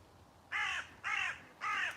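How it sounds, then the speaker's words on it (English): Three harsh crow caws ring out in an even rhythm, fairly clear and moderately distant over a quiet outdoor background. "Flipping crows, man."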